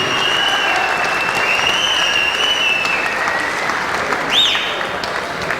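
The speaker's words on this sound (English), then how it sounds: "How about a big round of applause there for Stuart Muller and Kevin Murray" A boxing crowd applauds steadily after a close fight, a dense continuous roar of clapping with a few whistles rising above it, loud and enveloping.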